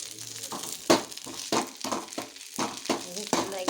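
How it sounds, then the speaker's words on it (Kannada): Sandalwood leaves frying in ghee in a pan, with soft sizzling and repeated scraping stirs that come in a steady rhythm of strokes, close and moderately loud. "ಈ ರೀತಿ ಹುರಿತಾ ಇದ್ದೇನೆ ತುಪ್ಪ ಬಿಟ್ಟು."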